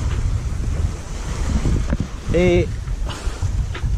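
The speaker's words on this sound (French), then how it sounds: "le vent s'est remis à souffler" Wind roars loudly across the microphone aboard a sailboat on the Mediterranean near La Ciotat, with gusty rumble and the wash of waves throughout; someone speaks briefly and a short tonal squeak rises midway.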